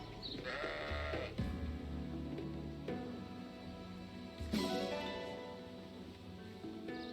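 Elysian sheep in the video game Fire Emblem: Engage: several clear bleats, some overlapping, rising and falling in pitch over a quiet game backdrop, fairly close and distinct.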